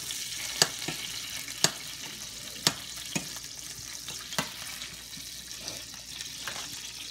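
Butter melting in a hot pan for seafood rice gives a steady soft sizzle, broken by several sharp clicks and taps of a utensil against the pan, with no talking.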